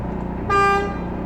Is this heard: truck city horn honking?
yes